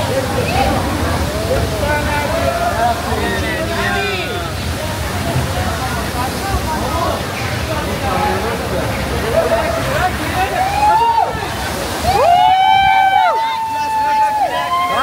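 Water pours down a small, cold mountain waterfall in a steady rushing roar, with people chattering and calling nearby throughout.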